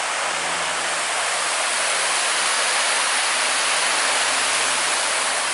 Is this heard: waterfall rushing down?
yes